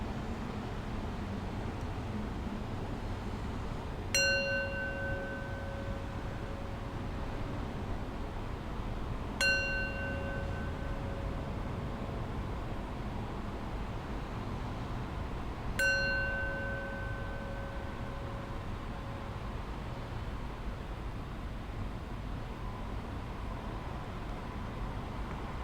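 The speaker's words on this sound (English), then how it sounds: "We'll close this practice with 3 rings of the bell." A meditation bell is struck three times at slow, even intervals. Each strike gives a clear, ringing tone that fades gradually, and a quiet, steady room hiss sits beneath it.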